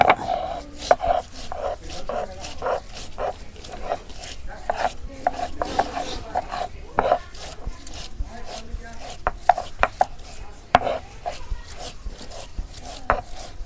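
Ginger and whole spices being ground on a traditional grinding stone outdoors in winter sun, a steady run of rhythmic rubbing strokes with sharp scraping hits, close and continuous for the whole stretch.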